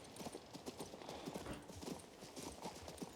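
Steady horse hooves clip-clop at a walking pace in the King's Bounty II video game, dense repeated hoof strikes running throughout, fairly close, with no talk over them.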